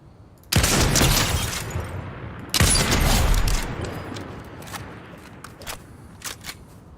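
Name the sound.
gunshot sound effects in a video game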